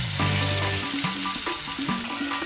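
Gourami fish fries in hot oil until crispy, a close, steady sizzle with crackling spurts and a few tonal clinks over it, with no talking.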